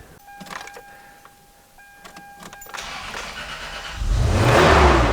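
A truck engine with freshly repaired injectors is cranked and fires up loud and close, settling into a steady, even idle after a few seconds of quieter clicks.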